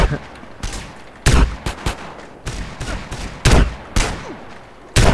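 Gunfire in the Battlefield video game: loud, sharp single shots and short bursts crack out at irregular intervals, close and punchy, with brief quiet gaps between them.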